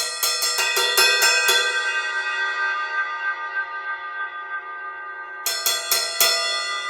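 Bright, ringing strikes on the bell of a 20-inch A8X stage ride cymbal: a quick burst of pings, a long sustained ring-out, then another cluster of hits.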